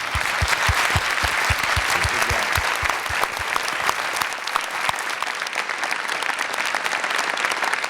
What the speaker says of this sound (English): If you could join me in a big round of applause for our...